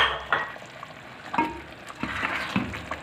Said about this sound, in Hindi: अब इसमें मैं ये गोश्त शामिल कर रही हूँ